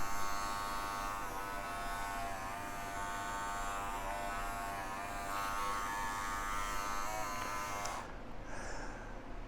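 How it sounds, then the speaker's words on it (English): An Andis Master cordless hair clipper runs steadily for about eight seconds with a constant, close electric buzz, then cuts off near the end. "Pretty decent sound for being a cordless version of the classic."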